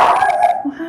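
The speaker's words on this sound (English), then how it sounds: "Here we go with the barking." Several dogs bark and yip at a door indoors, a brief burst of close barking with a short whine toward the end.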